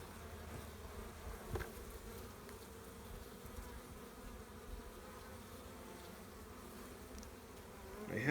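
Honeybees drone continuously during a spring hive inspection, a steady soft buzzing close by with occasional light knocks and handling sounds, and no voices.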